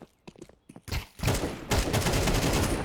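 USP pistol gunfire in Counter-Strike during a competitive match, a dense, loud fusillade of overlapping shots that erupts suddenly after a few scattered quieter clicks and impacts.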